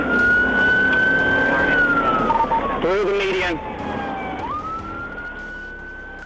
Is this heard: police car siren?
yes